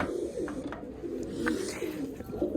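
Pigeons coo steadily in low, throaty rolling calls, several birds overlapping throughout, with faint chirps and light background noise.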